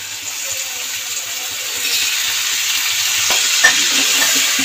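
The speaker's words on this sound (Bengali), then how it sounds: "এবার আমি আগে থেকে সেদ্ধ বাঁধাকপি এটা দিয়ে দেবো।" Boiled cabbage and potatoes sizzle in a pan as a spoon stirs them, producing a steady, close frying hiss with a couple of brief scrapes and knocks near the end.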